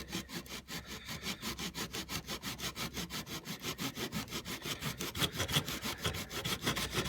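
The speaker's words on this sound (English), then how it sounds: "So, I cut on that second line that we drew." A hand saw cuts through a wooden boat stringer resting on a supporting block, with steady rhythmic back-and-forth strokes, close and clear, about four strokes a second.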